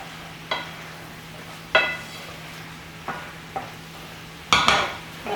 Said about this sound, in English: we're just gonna stir because we want all of those flavors to infuse